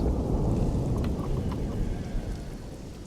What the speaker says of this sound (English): it lets out another very similar explosion sound as a cackle of lightning is shot